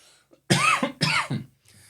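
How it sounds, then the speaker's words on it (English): Two sharp, loud coughs close by, one right after the other, followed by a faint throat sound. "Man, I have to cough a lot today."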